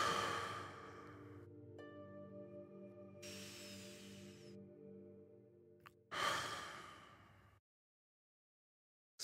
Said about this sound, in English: in through my nose and out through my mouth